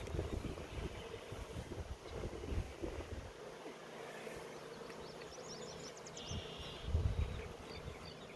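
Honeybees hum around an open hive during queen grafting, a faint buzzing and an occasional fly-by over light wind noise outdoors, with no talking.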